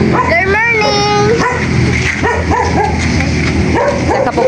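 A dog yips and barks in short bursts, some whimpering tones among them, close and loud over ongoing voices.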